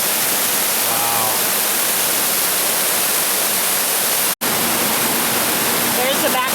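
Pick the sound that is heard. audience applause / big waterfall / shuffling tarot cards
big waterfall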